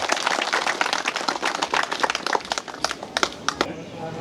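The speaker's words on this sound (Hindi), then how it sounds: "आप लोग एक बार जोरदार ताली हो जाए" An audience claps at an Ashok Vijayadashami celebration in Barwaiya, Patna, the scattered sharp hand claps building into a dense burst and then thinning out to a few last claps.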